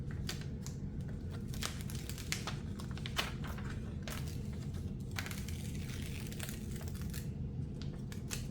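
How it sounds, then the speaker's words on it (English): Sticker paper backing being peeled away by hand, a steady close crinkly rustle with scattered sharp crackles and small tearing snaps. "What I normally like to do is peel off the excess part of the sticker."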